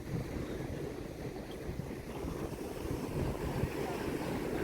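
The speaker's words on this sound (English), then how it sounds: "It's windy, and the waves, even way out here, are huge." Steady wind roaring over a microphone on a Gulf of Mexico fishing pier at Gulf State Park, with the broad wash of large ocean waves beneath, continuous and fairly loud, no voices.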